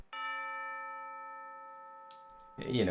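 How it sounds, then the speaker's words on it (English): A single tubular bell strikes the tonic note and rings out as a long, clear, slowly fading tone for over two seconds, then a voice cuts in at the end. "I just have the tubular bells hitting on tonic"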